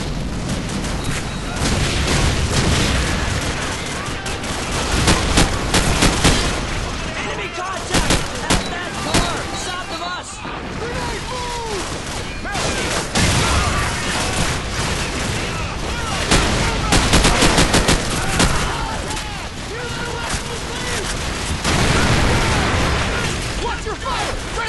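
Gunfire fills a Call of Duty 4: Modern Warfare firefight, with dense rifle bursts and single cracks repeating across the whole stretch, occasional heavier booms, and shouted voices mixed in.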